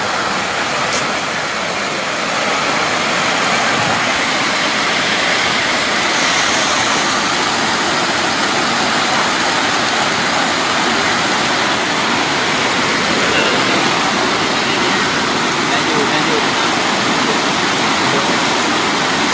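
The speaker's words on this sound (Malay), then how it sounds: "Hujan." Steady, loud rain pouring down as a dense, unbroken hiss that holds at the same level throughout with no talking.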